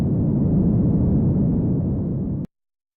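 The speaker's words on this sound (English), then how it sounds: "This is where the wave reaches the breaking point." A loud, steady roar of crashing water as a tsunami wave reaches its breaking point, broad and rumbling, holding at full strength for about two and a half seconds before cutting off abruptly into silence.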